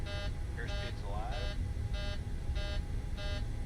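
An aircraft takeoff configuration warning repeats in a flight simulator video game cockpit, six evenly spaced bright electronic beeps over a steady engine rumble, with a brief voice mid-sequence.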